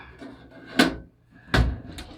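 Cast iron Pomoly Timberwolf wood stove door with a stiff, tight latch, never yet burned in, worked open in two sharp metallic clunks about a second apart, fairly close, with faint background noise between.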